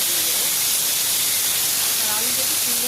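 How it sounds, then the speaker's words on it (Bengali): Potatoes fry in oil, a loud, close, unbroken hissing sizzle filling the whole stretch, with faint tonal whistles near the end and no talking. "এবার আলুটাকে ভেজে নেব"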